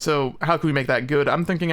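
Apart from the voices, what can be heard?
No distinct noise like a dog, phone or traffic.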